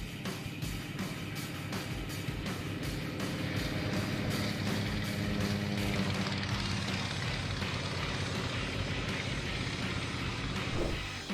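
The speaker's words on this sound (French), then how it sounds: "Est-ce le décollage le plus court que vous ayez vu pour un an-2?" An Antonov An-2 biplane's radial piston engine and propeller roar steadily and loud throughout a short takeoff, a broad continuous drone with a strong pulsing low rumble and no voices.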